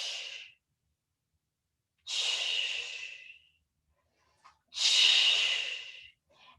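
Three heavy exhaled breaths during a yoga twist come in long, airy, close-miked rushes, each lasting about a second or more, separated by silence.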